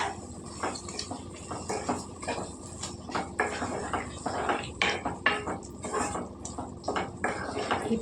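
Spoon scrapes and clinks against a pan while eggplant curry with green chili and ginger paste is stirred in oil, irregular close metallic taps and scrapes over a low background hum.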